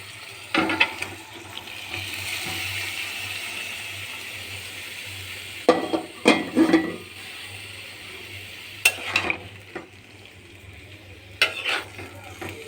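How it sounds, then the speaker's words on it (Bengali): Cooked mixed vegetables are tipped into a pan and stirred. A low sizzle runs beneath scattered bursts of scraping and clattering at irregular intervals. "কিছুক্ষণ পর আমি এবার দিয়ে দেব আমার রান্না করা সবজিগুলি, সব দিয়ে দেব।"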